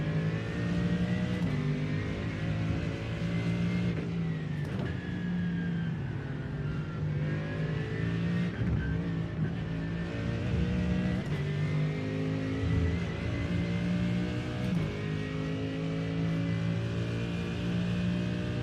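GT3 race car at Summit Point in iRacing, engine droning loud and close with repeated rising revs through upshifts and brief dips on lifts and braking, sustained throughout the lap.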